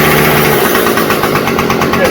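A Troy-Bilt TB227XP engine runs near the throttle limit with a loud, steady, buzzing drone, faintly knocking throughout.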